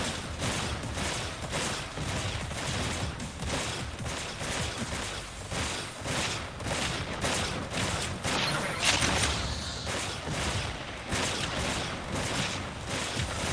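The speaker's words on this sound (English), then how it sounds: "There goes my auto cannons." Auto cannons blast in rapid, continuous bursts during Galactic Rangers sci-fi combat. The dense, loud gunfire runs steadily throughout with no pauses and no speech.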